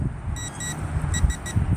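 A metal detector at its max setting gives a few short, thin electronic beeps over wind noise and handling rustle outdoors in a park, fairly faint and spaced irregularly.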